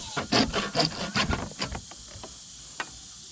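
A pole for a Garmin Livescope mount is cut by hand, a few close scraping, rasping strokes that quickly fade into quiet with one faint click at the end.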